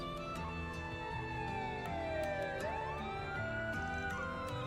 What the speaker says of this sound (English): A police siren?